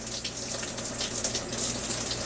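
Warm water gushes steadily from a shower inside a converted car hauler RV bus, a close, continuous hiss and splash with no talking.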